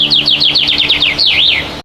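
Small birds chirp in a quick run of high, rising-and-falling notes, loud and close, in a courtyard where they peck at scattered grain. One longer wavering call ends the run.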